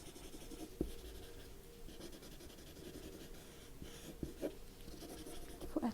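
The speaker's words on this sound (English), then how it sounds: "So this is the smudging technique, and I've used the smudging tool." A pencil shades on paper and a smudging tool blends the graphite, giving a soft, faint steady scratching and rubbing with a few sharper taps, close up and without speech.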